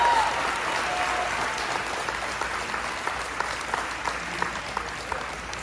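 An audience at a St John Lutheran School event in Ocala honoring a longtime basketball coach breaks into sustained, dense applause that holds steady throughout, with a faint murmur of voices underneath.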